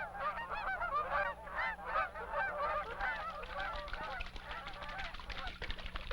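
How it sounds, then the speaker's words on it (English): A large flock of geese gathering around a lake before migrating south, honking in dense overlapping calls that rise and fall, loud at first and thinning slightly toward the end. "Large flocks of geese gather and fly south."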